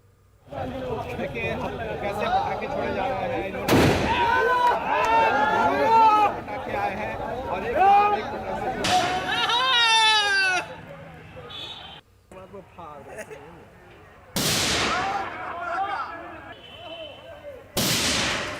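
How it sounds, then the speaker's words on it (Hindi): Firecrackers and fireworks at an election victory celebration outside a politician's residence in Bihar, several sharp loud bangs spread out over a continuous hum of crowd chatter and someone talking. "किस तरीके से यहां पर पटाखे फोड़े गए, आतिशबाजी की गई"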